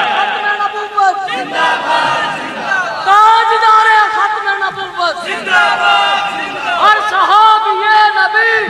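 A crowd at a Muslim religious gathering shouts a slogan back in unison, loud overlapping voices rising in repeated waves of chanting with brief pauses between surges.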